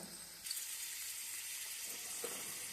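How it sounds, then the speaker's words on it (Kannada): Two small onions frying in a little oil give a steady, quiet, hissing sizzle throughout, with a faint clink or stir partway in. "ಸ್ವಲ್ಪ ಆಯಿಲ್ಲು, ಅದ್ರ ಜೊತೆಗೆ 2 ಈರುಳ್ಳಿ ಹಾಕಿದ್ದೀನಿ ಸಣ್ಣದು. ಸ್ವಲ್ಪ ಫ್ರೈ ಮಾಡ್ಕೊಳ್ಳೋಣ."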